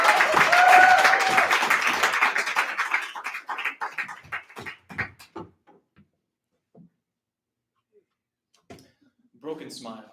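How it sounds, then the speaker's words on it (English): An audience at a poetry night applauds a poet on the way to the stage. Loud, dense clapping fades into scattered claps that die out into near silence, with a voice speaking briefly near the end. "Clap them all the way to the stage,"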